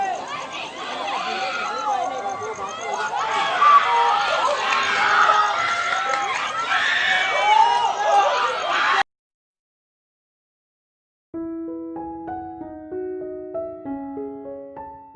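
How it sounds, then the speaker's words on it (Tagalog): Large crowd in Cagayan Valley during Super Typhoon Ulysses, a dense roar of shouting and screaming voices that stays loud for about nine seconds, then cuts to silence before quieter tonal music begins. "Isang nakakakilabot na mga hiyawan ng mga kababayan natin ang maririnig sa Cagayan Valley"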